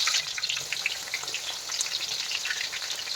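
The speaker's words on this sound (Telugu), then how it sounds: "హీట్ అయిన వెంటనే అందులోకి మనం ఆనియన్స్ వేసుకోవాలి." Onions frying in hot oil in a kadai, a dense steady crackling sizzle up close, continuous and fairly loud with no voices.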